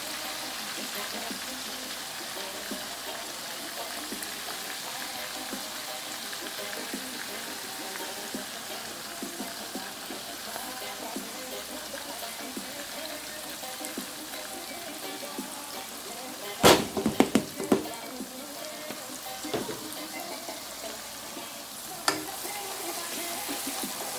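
Curry sizzles steadily in hot oil, a continuous crackling hiss broken by a few sharp clatters of stirring partway through.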